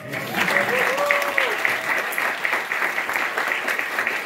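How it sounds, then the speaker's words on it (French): Audience applause breaks out after a reading event announcement, a steady dense clatter of clapping filling the room, with a faint whistle-like tone and a few voices briefly rising over it near the start. "Vous pouvez applaudir du coup."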